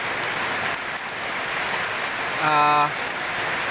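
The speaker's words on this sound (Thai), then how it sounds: "ตอนนี้ฝนตกนะครับ" Rain falls during the rainy season on a vegetable farm where seedlings sit under plastic sheeting, a steady hiss of drops throughout, with a brief tonal voice-like sound near the end.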